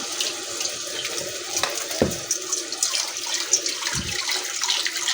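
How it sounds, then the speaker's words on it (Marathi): Water pours steadily into a pan of masoor lentils for cooking, a continuous close splashing trickle with a couple of soft knocks. "आता थोडंसं पाणी म्हणजे ती डाळ शिजे शिजेल असं थोडंसं पाणी टाकायचं"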